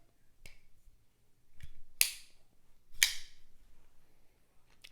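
A TwoSun folding knife with titanium scales and a D2 blade snaps open and locks, giving a few sharp, close clicks and snaps spaced apart against a quiet background.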